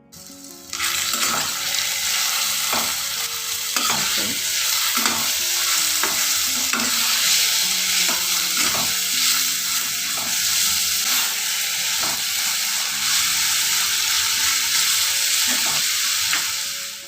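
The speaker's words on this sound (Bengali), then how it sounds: "নুন দিলাম, একটু হলুদ দিয়ে আমি আলুটা কষতে নিলাম।" Potatoes with salt, turmeric and green chillies sauté in a pan, giving a loud continuous sizzle broken by regular scraping stirs.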